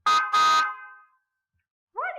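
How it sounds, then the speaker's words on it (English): A car horn sounds two loud, close honks in quick succession, the second held slightly longer and fading out, followed after a short pause by the start of a different rising tone. "What is that? A horn."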